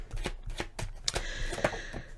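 Tarot cards being shuffled by hand for a reading, a series of quick papery riffles and soft slaps in an irregular rhythm, close and moderately quiet, with no voice over them.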